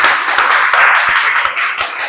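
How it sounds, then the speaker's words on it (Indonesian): A classroom audience claps steadily after a group presentation in an Islamic cultural history lesson, a dense and even patter of hands that lasts the whole two seconds with no voices over it. "Tepuk tangan yang meriah."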